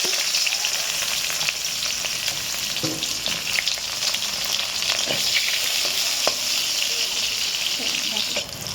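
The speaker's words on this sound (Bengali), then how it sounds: "বেগুনটা আমি ভেজে নিচ্ছি" Eggplant fries in a pan, giving a constant bright sizzle with occasional sharp pops and scraping stirs close by.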